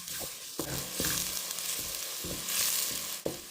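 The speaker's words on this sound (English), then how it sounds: "Next, we continue with some onions placed in. This time I let it saute very well until it turns golden." Onions sauté and sizzle in a pot, a steady close frying hiss broken by several dull knocks and scrapes of stirring.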